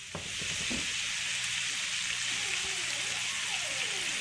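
About a tablespoon of butter sizzles and fries steadily in a pan while cooking shrimp linguine, a constant bright crackling hiss, close and even throughout with a few faint clinks at the start.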